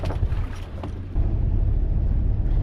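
A sailboat's engine runs astern near Rangiroa in the Tuamotu, a steady low motor drone with water and wind wash, growing louder and fuller about halfway through.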